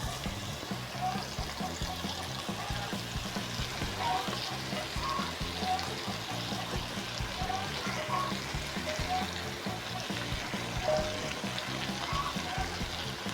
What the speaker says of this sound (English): I'm going to quickly place in my chopped up cabbage and carrots.